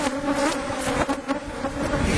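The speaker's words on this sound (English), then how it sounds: "I noticed a cloud of bees coming out of one hive when we drove up." A honeybee swarm pouring out of a hive, a dense buzzing drone of many wings with individual bees zipping close past, steady and loud with no voices.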